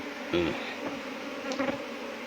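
Honeybees buzzing during removal of a colony and its nest, a faint hovering drone with a few brief louder passes close by.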